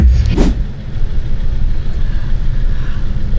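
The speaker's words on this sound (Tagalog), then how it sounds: "Oh, ang traffic." Car engine idling in traffic during a delivery-driving shift, a steady low rumble from the cabin with a brief whooshing pass early on.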